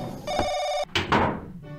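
Telephone ringing in the horror video game Paranoiac, a loud harsh electronic ring tone sustained for most of a second, followed by noisy bursts of in-game sound and the ring starting again faintly.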